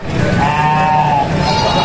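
Goats at a village livestock market (Pasar Wage Kucen) give one drawn-out, wavering bleat that rises over a steady murmur of crowd and animal noise, close and loud.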